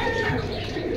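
Pigeons coo softly at a bird market in Jinjira Bazar, a brief low murmur of cooing close by under a busy background.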